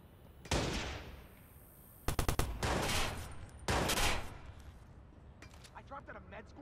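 Gunfire in the Watch Dogs video game: a sharp blast, then a quick string of rapid shots, then a heavier burst, ringing loud and close before fading into scattered echoes.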